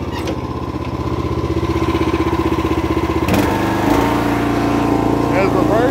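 A Snapper rear-engine riding mower runs loud and close throughout, its steady engine drone shifting in pitch partway through as it is put into gear.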